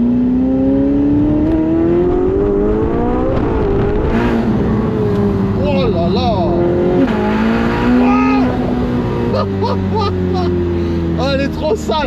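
A very loud Porsche sports car engine revs and accelerates up close, climbing and falling in pitch through several gear changes with sharp crackles, while excited voices talk over it.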